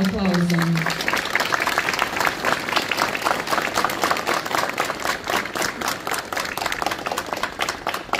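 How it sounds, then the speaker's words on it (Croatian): Sustained applause from an audience at an award ceremony where letters of thanks are handed out, steady clapping filling the whole stretch after a short spoken intro. "Molim jedan aplauz za nju."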